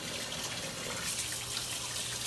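Steady rush of water running from a tap while meat is rinsed in a kitchen sink, continuous and fairly close, with no talking.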